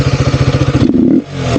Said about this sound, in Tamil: ஏர் ஃபில்ட்ரு கழட்டினதுக்கப்புறம் ஆர்சியோட சவுண்டை பார்க்குறீங்களா?